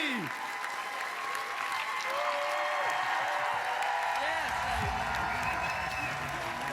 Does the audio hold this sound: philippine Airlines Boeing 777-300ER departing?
no